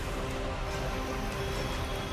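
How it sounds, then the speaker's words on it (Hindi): Heavy monsoon rain pours down in Mumbai, a dense, continuous hiss of water hitting surfaces, steady and loud with no voices. "5 दिनों से मुंबई में मूसलाधार बारिश का दौर जारी है।"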